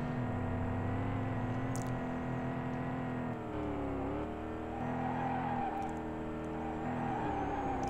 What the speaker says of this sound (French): la voiture qui dérape derrière, là